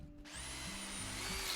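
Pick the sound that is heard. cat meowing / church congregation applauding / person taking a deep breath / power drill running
power drill running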